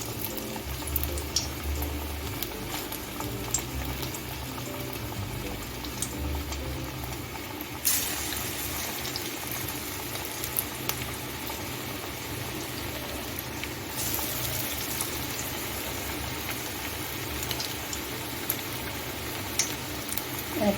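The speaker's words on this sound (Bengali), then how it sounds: "এখন আমি পকোড়াগুলি দিয়ে দিচ্ছি। গ্যাসটা আমি মিডিয়ামে রেখে ভেজে নেব।" Gram dal pakoras frying in hot white oil in a wok over a medium gas flame, a steady close sizzle and bubbling hiss that runs without a break and brightens partway through.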